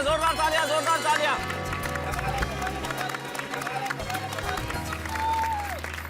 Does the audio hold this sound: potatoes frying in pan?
no